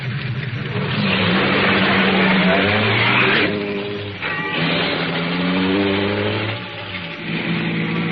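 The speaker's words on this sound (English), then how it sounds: "After I got the car back on the road again" A car engine accelerates as the car drives back onto the road, a loud, close, rising drone that shifts through gears and keeps revving steadily, with no talking over it.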